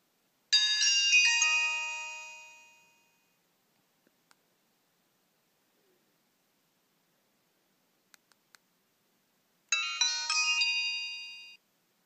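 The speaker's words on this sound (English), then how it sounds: "stop and shut down sounds, you could hear them this time" Alcatel 1016 mobile phone power ringtone: a short bright electronic jingle for startup, then silence with a few faint clicks, followed by a second melodic shutdown tune, both close and clear.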